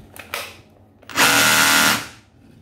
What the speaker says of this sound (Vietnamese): Đứng đầu bảng khoan bê tông của Makita.